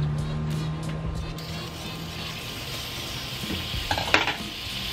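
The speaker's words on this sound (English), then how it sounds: "So we'll throw down our butter." Butter sizzling on a hot Blackstone griddle, a steady close hiss with a faint hum and a brief clatter of a utensil near the end.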